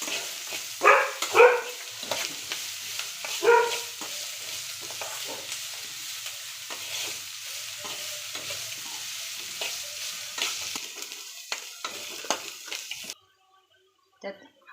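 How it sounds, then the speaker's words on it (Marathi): Onion and green chilli fry in a pan while they are stirred, giving a soft continuous sizzle broken by scraping stirs. A voice speaks briefly near the start, and the sound stops abruptly near the end. "कांदा चांगलं भाजून घ्यायचा।"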